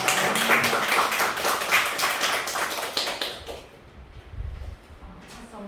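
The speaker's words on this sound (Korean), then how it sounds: "하나님께 영광의 박수 올려드리겠습니다" A congregation clapping together at a Sunday morning church service, dense and lively for a few seconds before fading out into quiet room noise.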